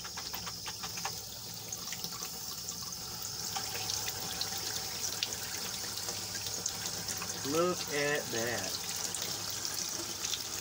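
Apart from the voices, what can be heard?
water running from a bathtub faucet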